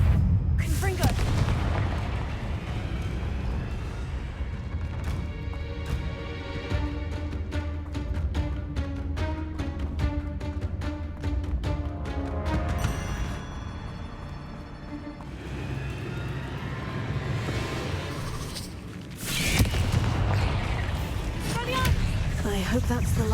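Repeated explosive blasts from the Confringo spell in the video game Hogwarts Legacy, with deep booms and bursts scattered through, under music and game sounds while a voice talks.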